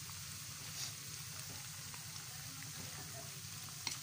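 Latik, coconut curd, fries in a pan with a steady soft sizzle and occasional faint pops, a constant low crackle close by with no one talking.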